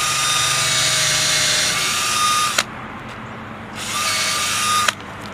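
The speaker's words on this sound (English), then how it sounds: "We're going to drill the hole." A power drill bores a hole into a living tree for a microinjection treatment, with two loud sustained whining bursts, each ending in a sharp stop and separated by a short quieter pause.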